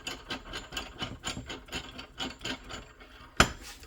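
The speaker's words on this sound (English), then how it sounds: "we just thread that onto the adapter like this" A slide hammer tool is threaded by hand onto a blind-hole bearing puller adapter, giving soft, rhythmic scraping and ratcheting rubs close up, ending in a single sharp metallic clink.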